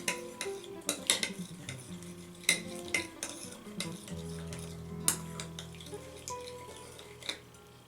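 A spoon stirs tzatziki sauce with chopped dill pickle in a bowl, giving repeated clinks and scrapes in an irregular rhythm, close and fairly quiet, with no speech.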